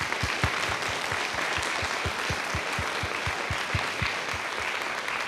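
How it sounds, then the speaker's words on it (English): An audience at a panel discussion applauds in a steady, dense wash of many hands, with individual claps popping out near the front throughout. "Please, a round of applause."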